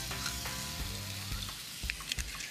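Oil sizzles steadily in a frying pan while thin slices cook for an Italian-style sushi roll, a continuous close hiss with a few soft clicks and stirring knocks and no talking.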